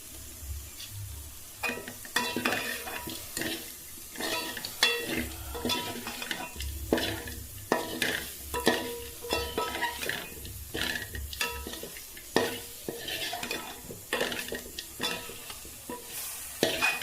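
Spices, including cumin and pepper, sizzle and crackle in a hot pan while a spoon stirs and scrapes them in uneven strokes. The sound stays steady throughout and no one speaks.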